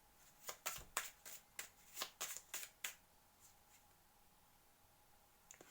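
Oracle cards being shuffled and drawn: a run of crisp, close riffling snaps over about three seconds, then quiet with a couple of faint taps.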